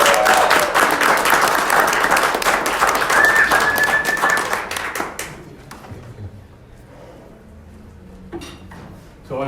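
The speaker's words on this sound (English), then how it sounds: "Please give a round of applause for Brother Gabriel." An audience at a Theology on Tap gathering claps loudly in a dense round of applause that fades out about halfway through, followed by quiet room noise and a few stray taps.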